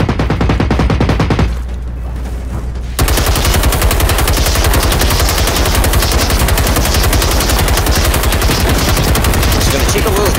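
Continuous rapid machine-gun fire from a tank robot in the game Generation Zero, loud and dense, with a short lull before the sustained burst resumes.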